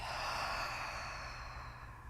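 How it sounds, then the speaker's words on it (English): A single long, soft exhalation through the mouth during a pregnancy yoga session, quiet and steady, fading slightly over two seconds with no talking. "Take a big breath in. Exhale out the mouth."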